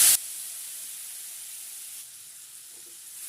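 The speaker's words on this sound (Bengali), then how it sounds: "দেখুন পনিরটা হালকা করে ভেজে নিলাম।" Marinated paneer fries in a hot, oiled frying pan, giving a steady bright sizzle after a brief louder burst at the start, continuing evenly without talk.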